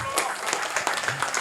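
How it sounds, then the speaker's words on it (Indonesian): A crowd claps briefly at a Javanese tingkepan (mitoni) seventh-month pregnancy ceremony, with scattered, brisk hand claps under a voice speaking over them. "Kalau ini boleh tepuk tangan, ini boleh tepuk tangan."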